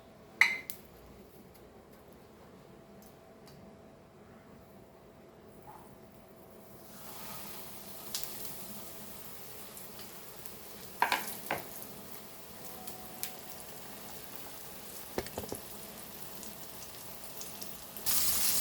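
Pomfret fish, coated in rava for a crispy Goan fry, hisses in hot oil, the sizzle turning to a fuller crackle once the fish goes in. A few sharp clinks and scrapes of a utensil sound against the pan, and no one speaks.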